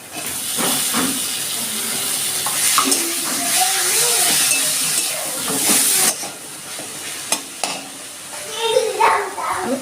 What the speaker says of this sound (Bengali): আমার পেঁয়াজ ভাজাটা হয়ে গেছে আমি এবার দিয়ে দিচ্ছি টমেটো কুচি